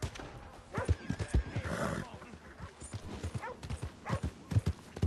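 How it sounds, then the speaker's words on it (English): A horse gallops and neighs in Red Dead Redemption 2, with quick rhythmic hoofbeats and a loud whinny early on, heard under someone talking. "I just stole this guy's horse, I'm sorry."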